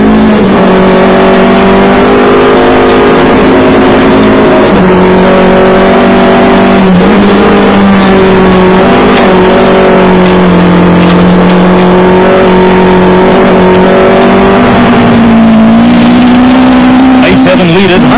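A Nissan rally car competing in the 2001 Rally of South Africa holds a loud, steady high-revving engine note for the whole stretch, with small pitch shifts as it pulls through stages, close and continuous.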